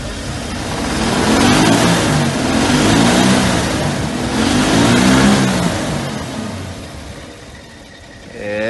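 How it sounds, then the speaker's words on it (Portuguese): An original 1951 truck engine is revved several times, each throttle blip rising and falling in pitch in a loud, close roar before settling back toward idle. "Dá uma aceleradinha aí pra gente."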